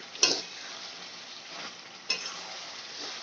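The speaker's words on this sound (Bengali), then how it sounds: "আমি ভালো করে কষিয়ে নেব চিকেনটা আমি যেন তলায় না লেগে যায় তার জন্য আমি একটু লেড়ে দেব" Methi chicken frying in a pan crackles with a continuous, fairly loud sizzle, and two distinct scraping stir strokes cut in about two seconds apart.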